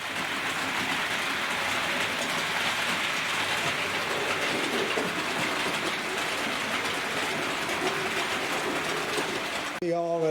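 A model West Country class steam locomotive pulling carriages at a realistic running speed, giving a steady continuous rolling rumble with wheel rattle throughout, ending in a brief sharp noise at the very end.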